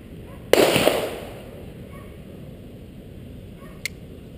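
A 9mm pistol fires a single loud, sharp shot at a shooting lesson, its blast decaying over about a second, followed later by a much fainter brief click or pop.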